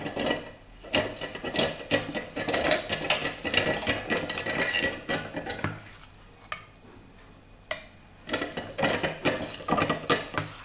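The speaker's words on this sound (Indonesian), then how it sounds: "Kita akan menggiling ya daging ikan ini dengan alat tradisional seperti ini ya." A manual traditional grinder works through fish meat for otak-otak, producing close rhythmic mechanical grinding and ratcheting clicks with short pauses between turns, with no talking.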